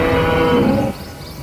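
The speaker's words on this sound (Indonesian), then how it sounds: "ini sapi, sapi penghasil susu ya teman-teman" A dairy cow in the dinosaur park game Jurassic World Evolution 2 lets out a single loud, low moo lasting under a second, then breaks off abruptly into quieter ambience.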